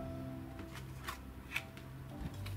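Tarot cards shuffled for a reading, soft papery rustling and a few light slaps heard close and quiet over a low steady hum.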